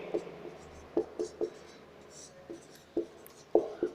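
A teacher writes on a classroom board, producing short, distinct taps and scratches in an irregular rhythm, close and fairly quiet, with a few faint breaths between strokes.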